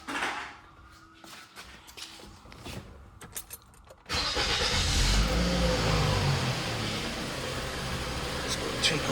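2007-2010 Toyota Camry with a stalling fault, first a few clicks and faint whirring, then the engine cranks and catches at about the midpoint and settles into a steady loud idle.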